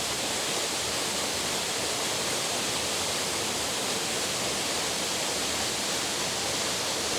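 A waterfall in the Lake District, reached by scrambling up wet, slippery rock, makes a steady, loud, broadband roar that continues unchanged for the whole stretch with no voices over it.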